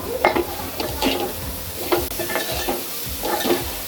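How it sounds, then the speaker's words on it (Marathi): Jaggery and grated coconut being stirred together in a pan for a sweet modak filling, rhythmic scraping strokes of a spoon against the pan over a soft sizzle, close and fairly loud. "आता हे चांगलं गूळ आणि खोबरं असं मिक्स करून घ्यायचं"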